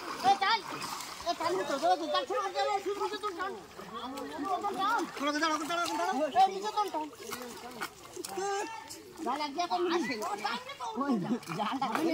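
Water splashes and churns as many people haul a fishing net through a large village pond. Excited voices and shouts from a crowd standing around the pond sound over the splashing the whole time.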